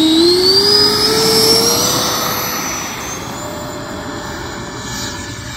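An E-flite F-4 Phantom RC jet roars steadily overhead on its maiden flight, its whining ducted-fan pitch sliding downward as it passes and recedes, loud and without any voices.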